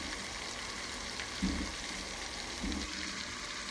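Scallops and shrimp sizzle steadily in a hot pan, a soft continuous frying hiss with two brief clattering bumps as pieces are flipped, fairly quiet and with no talking.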